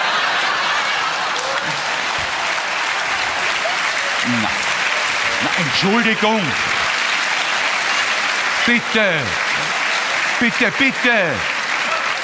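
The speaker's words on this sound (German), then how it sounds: "Warum klatschen auch so viele Frauen mit so einem Macho-Spruch?" A comedy stage audience claps steadily and loudly throughout, with scattered chuckles, while a performer's voice speaks briefly over the applause.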